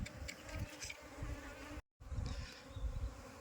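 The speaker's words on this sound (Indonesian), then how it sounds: "Sungguh lebahnya ini sangat agresif sekali" Swarm of aggressive Apis cerana bees buzzing densely and continuously while being moved into a box, a steady close insect drone with a brief dropout midway.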